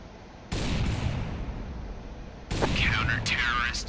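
Counter-Strike gunfire comes in two sharp bursts, an abrupt rattle of shots that tails off, then a second louder volley with ringing metallic echoes, close and loud, with a voice faintly present beneath.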